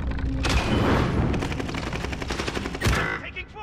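Rapid automatic gunfire in a first-person military shooter video game, bursts of loud shots crackling continuously with an extra heavy blast near the end, no talking over it.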